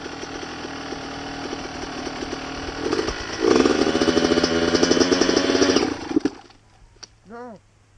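A Yamaha 85 YZ two-stroke dirt bike engine buzzes steadily, then rises into a loud, raspy rev as it pulls away before dropping off; a voice speaks near the end.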